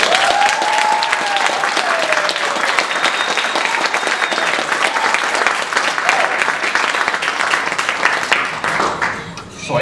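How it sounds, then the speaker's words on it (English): Sustained applause fills the room after a panel forum on cultural studies, a dense, even clapping from the audience that holds steady for several seconds before tapering off at the end. "May I have a big round of applause?"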